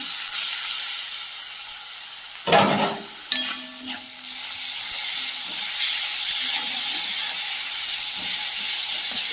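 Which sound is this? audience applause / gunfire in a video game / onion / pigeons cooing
onion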